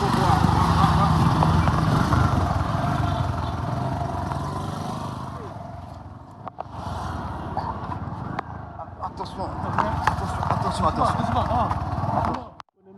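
A motorcycle engine idles and revs steadily up close as two riders get on, a loud continuous rumble that dips briefly partway through, with people talking over it.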